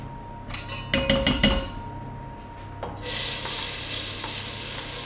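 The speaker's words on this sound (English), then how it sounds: "We'll first be starting off with some onions, frying off some onions, sauteing some onions." Onions frying and sautéing in a pan: a few sharp clinks and stirring scrapes come first, then a loud sustained sizzle rises and continues close to the microphone.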